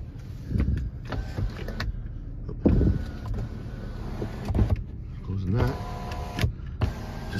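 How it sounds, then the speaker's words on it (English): Electric motor whirring as a dual panel moonroof on a Ford car slides open, with a few short mechanical pulses and soft thumps under nearby talking. "has a dual panel moonroof also."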